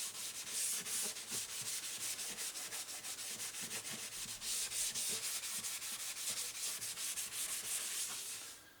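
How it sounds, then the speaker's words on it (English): Light hand-sanding of the dyed finish on a 40-year-old Korean-made Fender acoustic guitar, a soft, quiet rhythmic rubbing of repeated back-and-forth strokes. "I just like to use these to scuff any imperfections and do it lightly. Don't have to take the sanding too serious."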